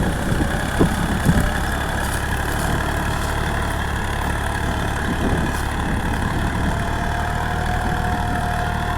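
A 42 hp Massey Ferguson 241 tractor pulls a three-bottom hydraulic reversible plough, its engine droning in a loud, steady, continuous hum that stays even throughout with no voices.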